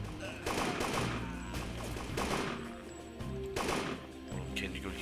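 Rapid gunfire bursts in the shooter game UberSoldier, set in a Nazi shipyard, come as dense repeated volleys with a voice talking over the shooting.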